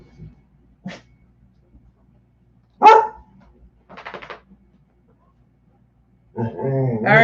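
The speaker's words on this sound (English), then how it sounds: "All right, no more barking." A dog barks in short, separate bursts, a few seconds apart, close by, followed by a longer, louder run of barking at the end.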